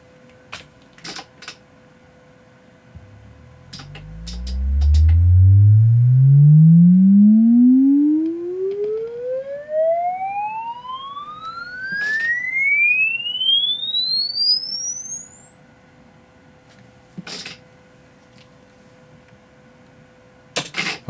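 A pure sine sweep test tone, used to create an impulse response, rises steadily from deep bass to very high pitch over about ten seconds, loud and clean, with faint background noise and occasional clicks.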